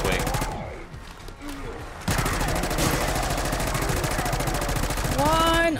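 Rapid automatic gunfire in Black Ops 6 zombies pours into a mangler, sustained bursts with a brief lull, then a loud, nearly continuous stream of shots until the end.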